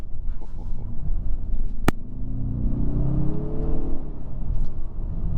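A 2022 Mazda 3 Turbo Premium hatchback accelerating from inside the cabin, the engine note rising steadily in pitch under a constant road rumble, with a sharp click near the start.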